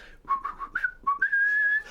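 A person whistles a short tune up close, a few quick notes followed by a long held pitch.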